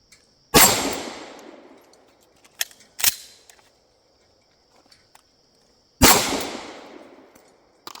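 Shots fired through a pistol magazine at a shooting range, three sharp loud reports with ringing decay, the first and last longer, spaced over several seconds with quiet between, no talk.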